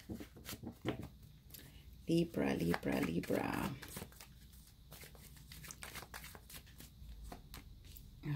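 Tarot cards are riffled and shuffled in a brief burst of papery flutter, with a person talking before and after.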